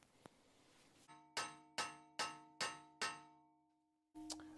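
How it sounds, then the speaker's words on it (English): Hammer strikes on a Subaru Outback front wheel bearing: five sharp, ringing metallic blows in an even rhythm, close and loud, followed by a sixth hit after a short pause. "Once I whack it a few times over here, it'll give me a little gap on this side."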